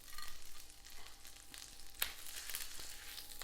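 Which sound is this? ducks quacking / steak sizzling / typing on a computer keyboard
steak sizzling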